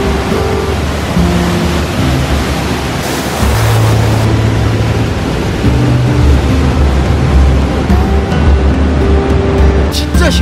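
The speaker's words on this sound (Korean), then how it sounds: "여기는 무슨 소리야 이게? 폭포다." A waterfall in a dense, rain-soaked forest at Milford Sound, New Zealand, produces a loud, continuous rushing roar that fills the whole clip, with faint low tones underneath.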